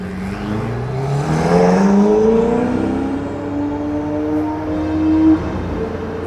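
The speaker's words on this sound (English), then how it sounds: "Ça c'est pas un échappement standard." Ferrari SF90 fitted with an aftermarket Novitec exhaust, revving close by with rising, falling engine pitch sweeps and a raspy exhaust tone, one long climbing rev cutting off sharply near the end.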